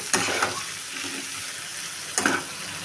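Potatoes stir-fried in a pan with tomato for a banana-flower and shrimp dish, giving a steady close sizzle broken by two scraping stirs near the start and end, with no voices.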